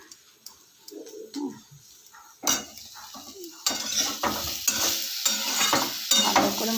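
Spinach with spices, beans and potato being stirred and fried in a pan for a Bengali palong shak ghonto, with scraping utensil strokes and clattering against the pan growing louder and busier over a soft sizzle; no talking.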